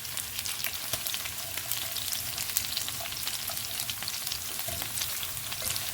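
Chicken pieces frying in a pan until golden brown, with a constant close sizzle and scattered sharp crackles and pops as they are turned; no one talks.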